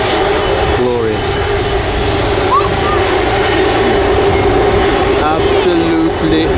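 An airliner comes in to land at Manchester Airport, its engines a steady loud roar with a whining tone throughout, close and sustained, with faint voices underneath.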